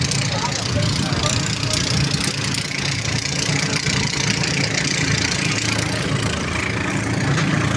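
A motor boat engine runs steadily at a fish landing in Parañaque, a loud continuous rumble with people talking over it.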